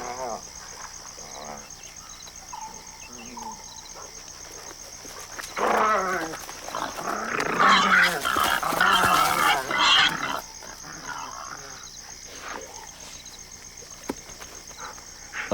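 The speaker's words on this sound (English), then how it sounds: "The wild dogs have a kill too" Wild dogs feeding at a kill in tiger country, snarling and growling in a sudden noisy scuffle that rises midway and then settles over a steady background drone.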